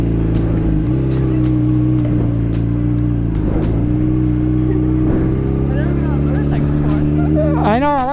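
A motorcycle engine idles and revs steadily close by, its low rumble swelling as the rider pulls off into a circle, with a rising whine near the end.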